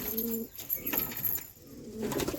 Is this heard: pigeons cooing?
yes